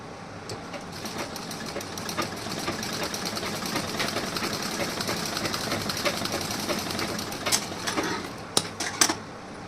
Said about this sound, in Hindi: अब इस साइड में हमें स्टिचिंग करना है